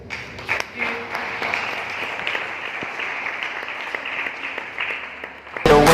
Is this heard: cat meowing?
no